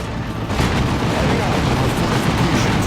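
Grenade blasts in the real-time strategy game Dawn of War II, a loud, dense, continuous barrage of booming explosions and gunfire lasting several seconds with no break.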